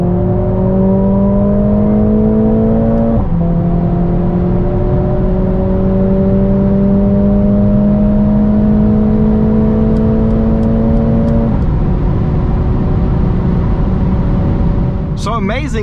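A Mercedes-AMG A45 S accelerates hard from 100 to 200 km/h. Its engine note climbs steadily in pitch, dropping briefly at two gear shifts, loud and continuous throughout.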